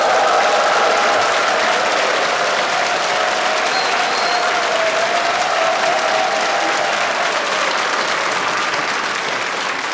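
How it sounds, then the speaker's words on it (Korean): A large audience at a volunteers' appreciation night claps in sustained, dense applause, loud and steady for ten seconds and slowly easing off, with a faint cheer mixed in. "한번 열화와 같이 어디서도 받아보지 못한 박수와 환호를 하겠습니다."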